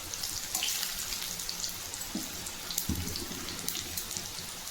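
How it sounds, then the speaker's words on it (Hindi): A homemade snack frying in hot oil in a pan, a soft continuous crackle and patter of small popping bubbles with a few brief knocks, fairly quiet. "तो इसे हम अच्छे से फ्राई कर लेते हैं"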